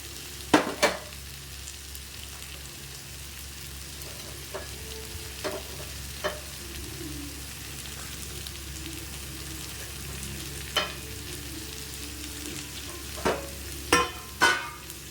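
Beans and carrots fry in a hot pan with a steady soft sizzle, broken by several sharp scrapes and clatters of stirring, near and alone without talk.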